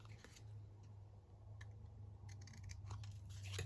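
Quiet scissor snips cutting small paper tags, a scattering of irregular short clicks over a steady low hum in a room.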